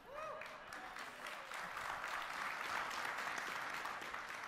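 An audience at a cryptography panel breaks into sustained applause, a dense wash of many hands clapping that swells and holds steady, heard from a distance and fairly quiet.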